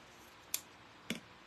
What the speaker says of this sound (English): I am probably gonna cut one little strip here and then cut it in half.